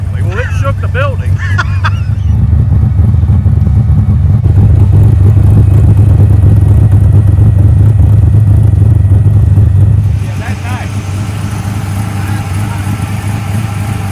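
A 427 big-block V8 in a Nova runs with a deep, loud rumble that swells to a heavy roar, then drops to a lower idle, with people talking over it.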